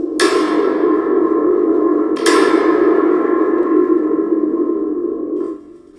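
A spring drum rings out with a long, metallic, echoing shimmer, struck twice, each hit sending a wobbling reverberant wash that slowly fades away.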